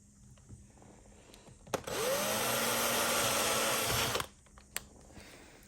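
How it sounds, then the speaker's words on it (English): A power drill whines steadily for about two seconds, drilling a hole in aluminum tubing, loud and close, then stops, with small clicks and handling noises before and after. "Drill another hole."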